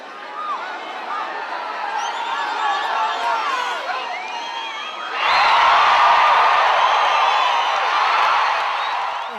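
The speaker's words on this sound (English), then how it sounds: "see the crowd just getting into it more and more and more" Rodeo crowd cheering during a woman's ride, a steady roar of voices and whoops that surges sharply louder midway and stays at full intensity, with scattered shouts above the din.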